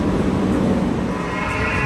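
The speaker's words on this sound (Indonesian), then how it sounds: "Kereta ini kereta regional guys." Steady rumbling hum of a regional train in motion on the way to Sagunto, Spain, a continuous broadband roar heard from inside the carriage with no talking.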